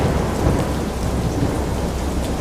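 Heavy rain pours in a dense, continuous hiss while deep thunder rumbles low underneath, steady and enveloping with no voices.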